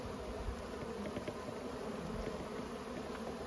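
Honey bees from a hive with a drone-laying queen buzz steadily and continuously at close range, a dense droning hum with no talk.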